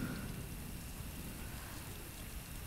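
Steady rainfall hisses continuously over the whole stretch, a dense even wash of drops with a low rumbling undertone, quiet and unbroken with no voices.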